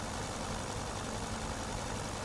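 A 1910s-era aircraft engine runs steadily in Flight Simulator, giving a continuous, even drone with no breaks.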